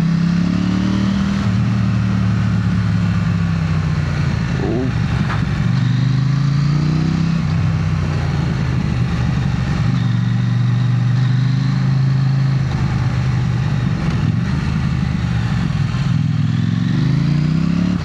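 A KTM Duke 790 motorcycle is ridden with a loud, close engine drone that rises and falls through gear changes and throttle shifts, steady throughout with road and wind roar underneath.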